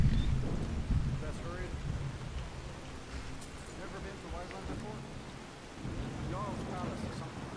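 Rain with rolling thunder in the video game Skyrim, a continuous wash of falling rain under low rumbles. Faint voice-like tones come and go over it.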